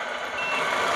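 Reversing beeps from a Tamiya 1/14 RC truck in reverse gear, a steady high electronic tone running continuously for the full second, close and fairly loud over a faint motor hum.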